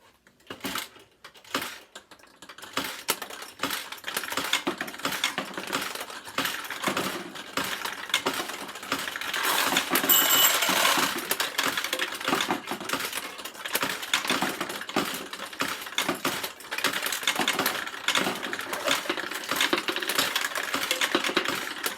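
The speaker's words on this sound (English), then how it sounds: "We're going to put some balls in the front tray and start to play the machine." A Nishijin Model C pachinko machine in play, balls loaded from the front tray, gives a dense continuous metallic clatter and rattle of steel balls, steady and fairly loud throughout with no talk.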